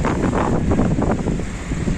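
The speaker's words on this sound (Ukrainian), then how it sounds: "Спекотний вітер." Strong hot wind buffets the microphone in a steady, loud roar with gusty rushing noise throughout, on a street in Mindelo, Cape Verde.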